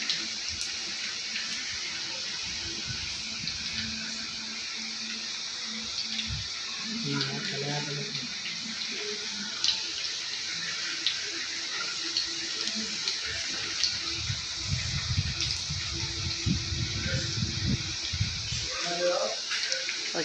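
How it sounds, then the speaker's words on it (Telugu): Cooking pots and vessels are scrubbed under a running tap at home. A steady stream of water hisses throughout, with faint metal scraping and clatter rising now and then in the background. "ఇక్కడ బోన్లు తోముకుంటామండి"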